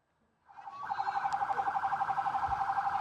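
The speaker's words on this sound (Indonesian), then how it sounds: "Sirine mobil damkar yang meraung keras saat menuju lokasi kebakaran ini" A fire truck siren rises in after half a second and then wails loud and steady with a fast pulsing warble, heading to a fire amid a crowded street carnival.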